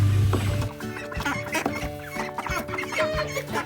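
Ducks settling into a new barn on a small farm give off repeated clucking, chattering calls close by, with bursts of rustling and movement between them.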